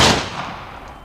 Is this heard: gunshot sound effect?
yes